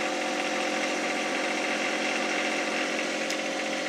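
A John Deere 1025R compact tractor's engine runs steadily at about 1900 RPM, a loud, continuous mechanical drone with an even hum that holds unchanged throughout, with no talking.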